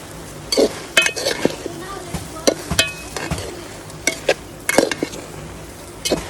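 Curry with dried fish being stirred in a pot, with scattered clinks and scrapes of a spoon against metal over a faint sizzle, fairly close and irregular, with no voices.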